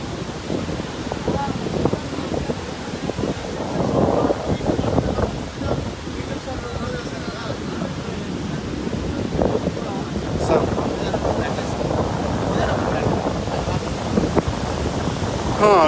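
Water pours through the gates of the Srisailam dam at full level, heard from the top of the project as a continuous broad roar under gusts of wind, with faint voices.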